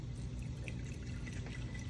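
Seltzer water is poured into a glass, giving a soft, steady fizzing pour that stays faint and continuous throughout with no voices.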